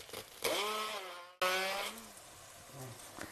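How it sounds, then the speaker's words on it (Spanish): A hand blender purees cooked food in two loud whirring bursts, its pitch sliding down as the motor strains, with a short cut between them and a softer tail. "Y ahora pasamos a triturarlo con la batidora."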